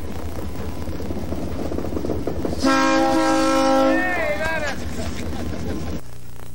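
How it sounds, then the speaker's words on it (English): A locomotive's horn sounds a steady, loud blast for a couple of seconds, then falls away, over a low rumbling engine and background noise as it backs out of an engine shed. "locomotive number 68 was backed out of the Thendara shed for the first time"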